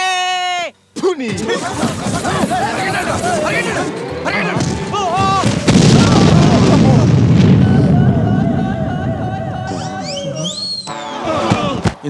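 Bomb explosion in a Telugu comedy film chase scene, a heavy booming blast with crashing debris rumbling for several seconds amid music, shouting voices and scattered effects.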